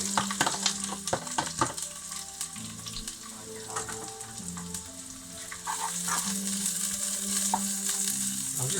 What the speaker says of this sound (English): I'm just frying these off.